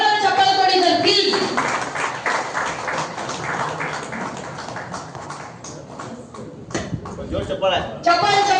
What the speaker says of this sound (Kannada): ಅವ್ರಿಗೆ ಜೋರಾದ ಚಪ್ಪಾಳೆ ಕೊಡಿ ಸರ್ ಪ್ಲೀಸ್